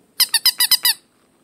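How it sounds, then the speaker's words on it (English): A squeaky pet toy shaped like a bone is squeezed six times in a quick, even run, each squeak sharp, loud and close, followed by quiet. "I have this squeaky one."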